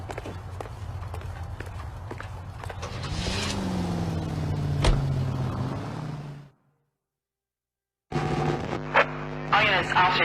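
A car is driven through city streets in the video game L.A. Noire: a steady engine drone with road noise and voices over it, which cuts to silence for about two seconds and then resumes.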